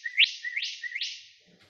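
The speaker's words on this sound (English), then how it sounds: "You can make a direct digital synthesizer that tracks these frequencies and synthesizes them." Synthesized birdsong from a Raspberry Pi Pico direct digital synthesizer: three loud, clean rising chirps in steady succession, each sliding upward and then holding, fading out at the end with no voices.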